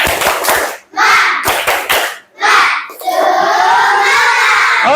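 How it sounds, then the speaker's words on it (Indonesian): Fifth-grade schoolchildren in an elementary classroom clap together in a rhythmic cheer, short bursts broken by brief pauses, then a sustained loud wave of clapping and children's voices at the end. "Oke, tepuk tangan."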